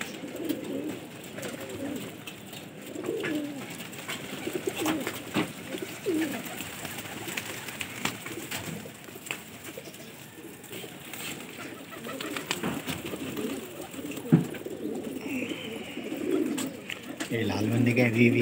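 Gola pigeons cooing softly and continuously in a loft where many birds sit close together, low murmuring calls layered with faint rustling and a brief sharper sound near the end.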